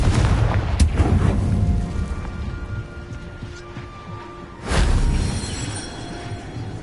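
Confringo fire spell explosions in the video game Hogwarts Legacy, heard as a sharp blast near the start and a second heavy booming burst later, each trailing into a rumbling, crackling decay.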